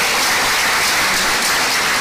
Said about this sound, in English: Let us give him a big round of applause.